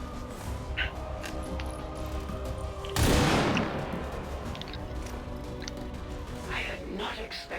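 A sharp burst of flanking gunfire in XCOM 2, a sudden loud blast that decays over a second or two amid steady game ambience, with faint speech around it.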